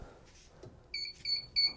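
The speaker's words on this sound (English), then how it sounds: "It's beeping." Three short electronic beeps sound in a row, evenly spaced and fairly faint, over a quiet background.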